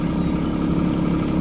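Steady, loud mid-pitched drone of a tracked machine's engine held at high revs, continuous and close with a slight clattering texture and no talk.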